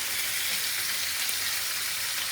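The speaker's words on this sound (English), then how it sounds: "So I'm just not going to stew it straight away, I'm going to fry it and stew it." Lamb shanks fry in a pan with a dense, steady sizzle and crackle throughout, close and even, with no voices.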